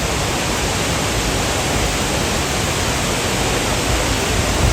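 A waterfall in Antalya roars as a dense, unbroken rush of water, loud and constant throughout with no other sounds standing out.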